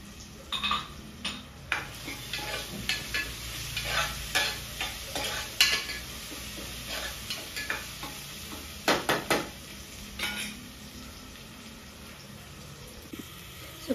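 Onions, chilies and ginger-garlic paste fry in a pan while a spoon stirs and scrapes in irregular bursts over a soft continuous sizzle, with no talking.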